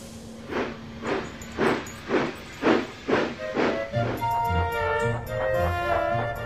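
Thomas the Tank Engine, a steam locomotive, chuffs in a steady run of about seven loud, evenly spaced hissing puffs as he pulls into a station, then the puffing gives way to music.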